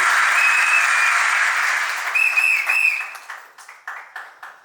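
Applause from guests at a civil wedding ceremony, a loud sustained wash of clapping that holds steady, then breaks into a few scattered claps trailing off near the end.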